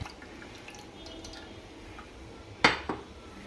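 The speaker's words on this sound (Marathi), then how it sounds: "आता हे आपल्याला सगळं गाळून घ्यायचं आहे" Gram flour khandvi batter with turmeric being strained through a sieve in a home kitchen, a quiet background followed by a sharp metallic clink and brief dripping near the end.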